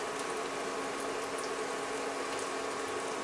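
Tofu sizzles in a large pan on the stove, a dense continuous hiss and crackle of hot oil with occasional sharper pops, steady and close throughout with no talking.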